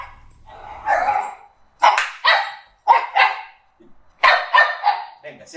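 A white dog named Yuki barks in several sharp bursts, close and fairly loud, with short pauses between them and a voice briefly heard near the start.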